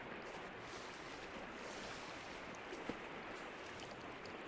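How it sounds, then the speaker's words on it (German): Steady broadband rush of a waterfall in the game Sons of the Forest, continuous and even, heard from a moderate distance with one faint click partway through and no talk. "Aber dahin hört ihr doch auch den Wasserfall"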